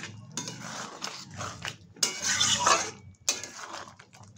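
Minced meat with turmeric, salt, ginger and garlic being stirred in a pan, with irregular metal spoon scrapes and clinks against the pan in short bursts, close and moderately loud.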